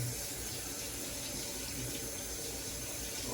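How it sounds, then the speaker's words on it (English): A kitchen tap runs steadily while food is rinsed during home dinner cooking, a soft continuous rush of water with no voices. "Let me rinse this off."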